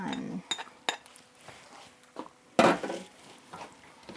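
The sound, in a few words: mixing pancetta into creamy pesto pasta in a pan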